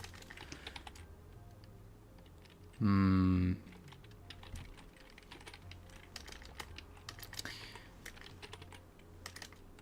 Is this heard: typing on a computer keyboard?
yes